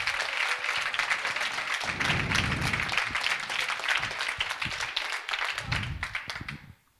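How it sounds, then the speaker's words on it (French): Seminar audience claps in a dense round of applause close by, steady throughout and tapering off at the end, with occasional low thumps among the claps. "on va refaire un tonnerre d'applaudissements pour vous"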